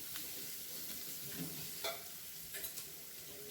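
Chopped onions and green chillies fry quietly in oil in a pan for samosa stuffing, giving a soft, steady sizzle with a few faint scrapes and stirring clicks.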